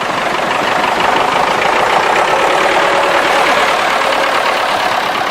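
A tractor engine idles steadily nearby, a loud continuous low rumble with an even chugging knock throughout.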